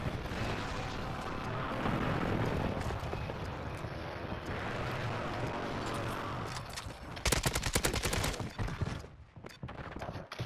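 Rapid automatic rifle fire in the Warzone video game, an AK47 firing in bursts under a continuous rumbling background, with a sharp, louder close-range volley near the end.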